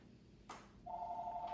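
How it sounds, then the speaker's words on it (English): A faint, quiet room gives way to a telephone ringing with a steady electronic trill, preceded by a brief soft rustle. "why does that phone keep ringing?"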